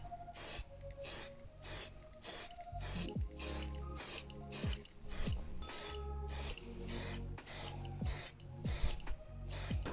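Aerosol spray can applying primer to a small kei car body under rust repair, repeated hissing bursts of a few seconds each separated by short pauses, close and loud, no speech.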